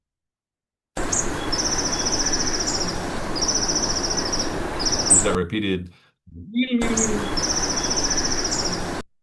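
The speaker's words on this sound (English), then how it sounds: "Listen for the high, thin call." Bushtits give high, thin, trilled alarm calls warning of a Cooper's hawk, repeated several times over steady background hiss. A brief gap follows, then the calls resume. A person speaks briefly.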